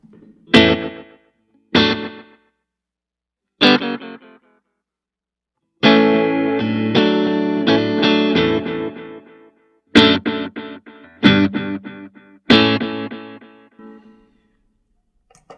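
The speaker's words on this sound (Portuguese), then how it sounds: "ele mantém o timbre bem parecido, só fazendo esse delay, a repetição" An electric guitar with a delay effect plays short plucked notes and chords, each followed by fading repetitions, with gaps of silence between phrases and a longer sustained passage in the middle.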